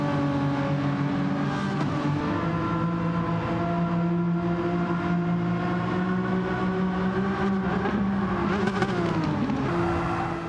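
Race car at Laguna Seca, engine held loud and steady with strong harmonic drone through a corner kink, pitch dipping and rising with a gear change near the end, no talk.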